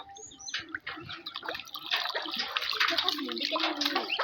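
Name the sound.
water being poured over ducklings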